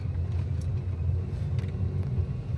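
A 1998.5 Ford Contour SVT with a 5-speed manual gearbox and front-wheel drive, heard from inside while driving: a steady low engine and road rumble, moderately loud and continuous, with no talking.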